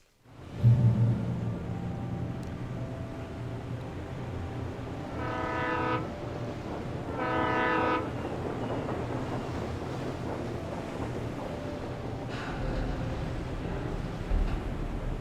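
A train rumbles past in the video game Alan Wake Remastered, with a steady heavy roar throughout and two long horn blasts sounding partway through.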